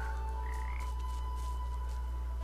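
Frogs croak in the video game Papo & Yo, a soft warbling croak over a loud, steady low game drone and faint tonal music.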